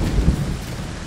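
Thunderstorm in the Fortnite Lego video game: a heavy, continuous rumble of thunder over steady rain hiss, loud and close with a swelling low boom early on, no voices.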